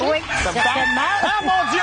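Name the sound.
rooster crowing sound effect on a game show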